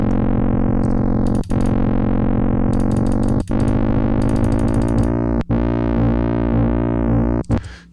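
Sustained distorted FM8 synth patch that wobbles on its own, several held notes with rhythmic pulsing modulation and brief gaps between them, loud and without voices.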